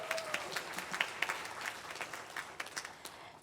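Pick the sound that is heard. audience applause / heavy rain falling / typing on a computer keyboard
audience applause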